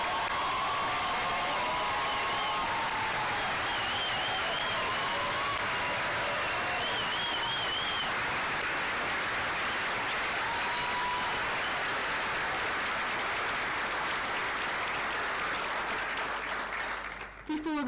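A graduation audience claps for the graduates in sustained, dense applause at steady volume, with faint voices and a few cheers mixed in, ending abruptly at the close.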